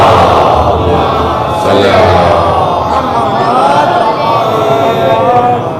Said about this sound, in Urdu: بلند ترین صلوات.